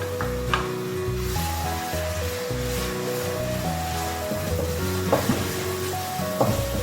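Ginger garlic paste sizzles in softened frying onions for dhaba-style chana dal, a steady close crackling hiss that runs throughout under background music.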